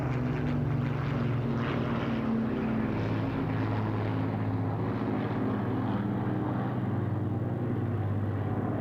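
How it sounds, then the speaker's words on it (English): A Lancaster, a Hurricane and a Spitfire, all propeller-driven warbirds, fly together at an RAF Fairford air show, their engines making a steady, deep droning roar that stays loud throughout the pass. "The Lancaster in the lead, the Hurricane on its right,"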